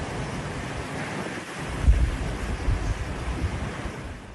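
Hurricane Milton's wind and rain storm batters the Florida Gulf coast, a loud continuous roar of gusting wind and heavy rain with deep rumbling surges and one strong low thump, with no voices.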